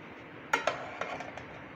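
Masala rice served out of a pot: a few sharp metallic clinks and scrapes of a spoon against cookware, close and quiet, in an otherwise still room.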